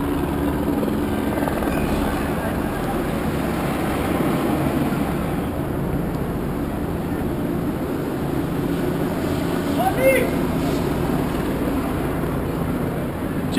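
A constant low thrum of about four helicopters' rotors hangs overhead a street protest throughout, steady and droning with no break.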